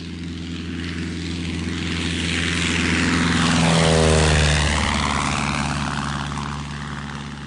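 A propeller airplane engine in a radio drama, droning steadily and swelling louder as the plane passes close by mid-clip, then easing slightly, with no voices over it.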